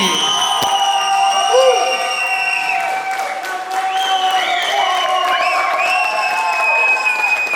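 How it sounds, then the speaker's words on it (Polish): Applause and cheering from a wedding reception crowd, steady and loud throughout, with whoops and shouts layered over the clapping and music-like tones in the hall. "gorące brawa dla Weroniki!"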